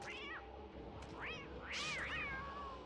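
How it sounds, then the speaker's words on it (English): A catcoon meows in the video game Don't Starve Together, several clear rising-and-falling cat calls in quick succession, fairly close over faint game ambience. "Come on, Abby, get the cat coon."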